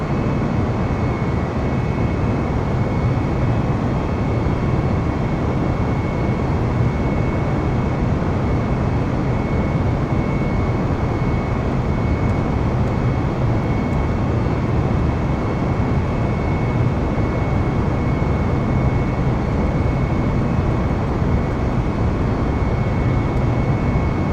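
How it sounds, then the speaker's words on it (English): Airliner engines roaring steadily during a takeoff run from McCarran International in Microsoft Flight Simulator, a loud continuous broadband rumble with a faint tonal whine and no talk. "let's go ahead and hit the throttle. And let's take off from McCarran International."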